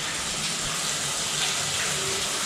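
Hot water runs steadily from a household tap during a final home inspection, a continuous close rushing hiss that holds even for the whole stretch.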